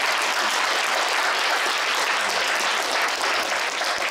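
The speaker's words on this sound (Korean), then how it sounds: "다시 한번 격려의 박수, 큰 박수 부탁드리겠습니다." Audience applause at a university forum lecture: dense, steady clapping from a sizable crowd, loud and continuous throughout with no talk over it.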